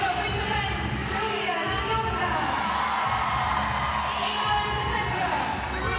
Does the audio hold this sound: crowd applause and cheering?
yes